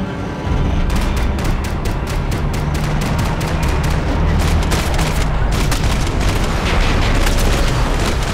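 Gunfire in Max Payne 3, a dense, loud, continuous fusillade of rapid shots and booms cracking steadily for several seconds, close and unbroken.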